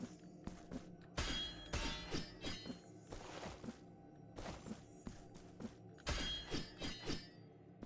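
Quiet metallic strikes and clangs with short ringing tails sound in Blasphemous 2 as a bell is hit, several impacts arriving in small groups over a faint ambient backdrop.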